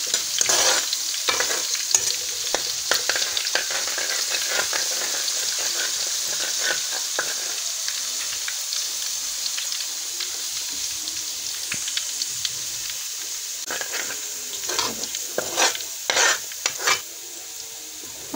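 Mutton korma ingredients browning in a pan with steady frying sizzle and scraping stirs throughout, the spoon strokes growing busier toward the end, with no voices.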